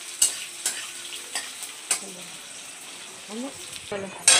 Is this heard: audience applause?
no